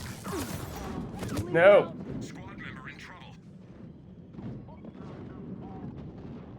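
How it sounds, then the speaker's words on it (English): A grenade detonates during a Mass Effect 3 multiplayer match, a short burst of muffled blast within ongoing game noise, with a voice shouting briefly over it. "Oh, that's a grenade."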